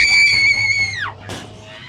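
A person lets out a loud, high sustained scream inside a haunted house attraction, the pitch sliding down at the end, followed by a short breathy burst.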